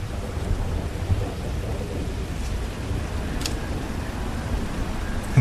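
Rain hisses steadily with a low thunder rumble underneath in the open-world game GTA 5, and a brief crack near the end, with no talking.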